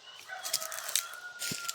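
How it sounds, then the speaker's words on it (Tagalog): Chickens on a rural property with a rooster crowing at moderate distance, its drawn-out call rising over soft background clucks and ambient noise. "Ito may mga manok to yo."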